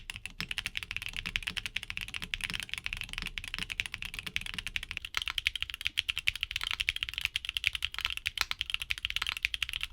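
Steady, fast typing on a Haimu Viola Tricolor mechanical keyboard, a dense run of crisp clacky keystrokes close up, with no voices.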